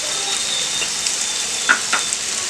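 Onions and dried red chillies sizzle steadily in oil in a pan for a Telugu sweet pumpkin curry, a close, continuous frying hiss broken by a few soft pops and crackles, with no talk.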